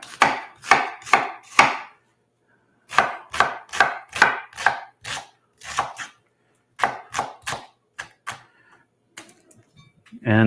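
Knife chopping an onion for a vegan holiday mushroom and walnut Wellington, crisp rhythmic cuts on a board in quick bursts of four to six strokes with short pauses, close and alone.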